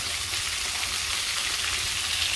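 Fish fries in hot oil in a village kitchen, a steady, bright crackling sizzle heard close and alone throughout.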